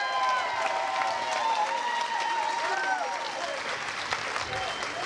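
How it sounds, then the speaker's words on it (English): Audience at a Northern Soul dance contest applauds steadily and densely for the full stretch, a continuous loud wash of clapping with some cheering mixed in. "give them all a round of applause"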